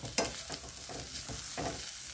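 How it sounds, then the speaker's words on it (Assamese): Chutney ingredients sizzle and fry in a pan over a low gas flame, with several soft stirring scrapes at a steady pace. The frying is close and fairly quiet, and no one speaks. "এইখিনি অলপ ৰঙা পৰাকে ভাজি থাকিব লাগিব"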